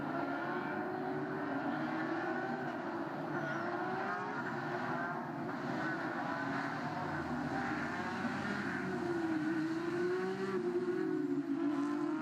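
Porsche Carrera Cup race cars rumble at the Nürburgring, a steady blend of engine drone from several cars with one engine note rising and revving toward the end.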